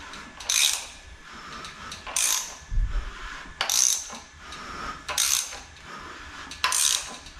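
A VW AAB 2.4-litre diesel engine turned over by hand during a rebuild produces repeated mechanical clicking bursts, about five evenly spaced ratchet-like clacks, close and distinct against a quiet background.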